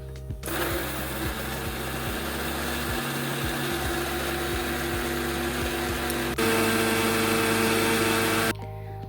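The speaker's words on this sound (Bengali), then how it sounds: "আর এখানে মশলা বেটে দিচ্ছি" An electric kitchen grinder whirs loudly as it grinds spices and poppy seeds into a paste, a steady high motor drone with a rhythmic low churning that shifts pitch partway through and then cuts off near the end.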